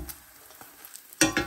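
Small parathas frying in a pan, with a quiet, intermittent sizzle and a few soft clicks, then two louder bursts of crackling near the end.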